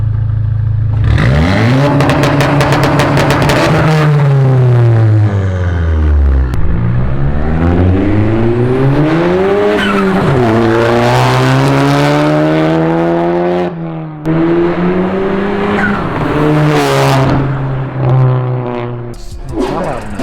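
A straight-piped Volkswagen Mk7 GTI with a CTS Turbo catless downpipe revs hard again and again, its exhaust pitch sweeping up and down, loud and close, with a brief voice near the middle.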